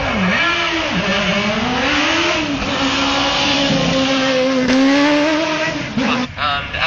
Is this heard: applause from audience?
no